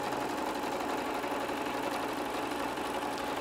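A sewing machine stitches fabric for toy making, giving a steady, close, continuous mechanical whir throughout.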